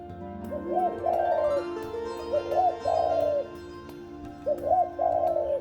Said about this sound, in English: Dharma took the shape of a white dove.